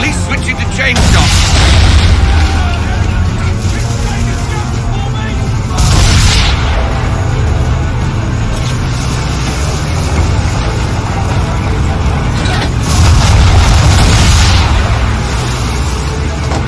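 Heavy cannon fire during a naval battle in Assassin's Creed 3, repeated booming broadside blasts with rumbling tails over a continuous roar of sea and battle noise, a voice speaking in between.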